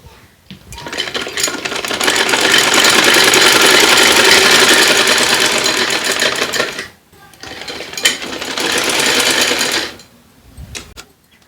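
A sewing machine stitching cloth for a child's village-style garment runs loud and close in a long burst, stops briefly, then runs again in a shorter burst before fading.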